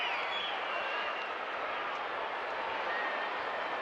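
A large crowd roars continuously at a baseball game at Petco Park in San Diego, a dense, steady wash of cheering with no clear breaks.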